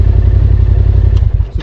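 Motorcycle exhaust pipe rubbing on a touring bike, heard as a loud, close, low engine throb with a brief clattering knock and thuds toward the end.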